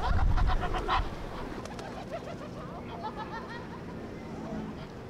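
Pair of Egyptian geese in a London park calling noisily while displaying to each other, harsh honking and cackling bursts loudest at the start, then continuing over general outdoor park noise and distant murmur.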